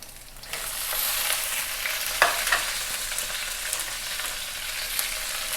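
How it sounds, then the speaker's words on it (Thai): Water spinach stir-frying with garlic and salted fish in a hot wok, a steady loud sizzle with a couple of sharp metal clinks partway through. "จากนั้นเราใส่ผักบุ้งลงไปเลยนะคะ"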